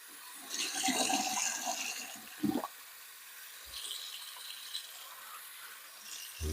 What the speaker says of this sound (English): So let it fill up really good with water.